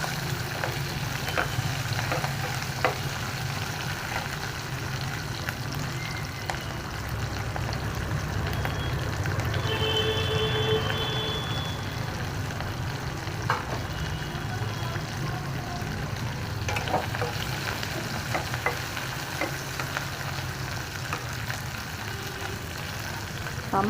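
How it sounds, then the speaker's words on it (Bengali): Capsicum frying in oil for kadhai paneer produces a steady, moderate sizzle with light crackles that continues evenly for the whole stretch, with no voices. "একটু বাদামি রং হবার পর্যন্ত ভাজা হবে, লাল পর্যন্ত যাবে না।"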